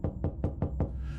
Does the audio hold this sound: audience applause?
no